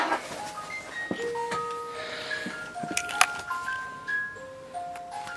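A wind-up musical jewelry box plays inside a microwave oven, its tinkling comb notes forming a slow, sparse melody with faint mechanical clicks and rattles, fairly close and alone.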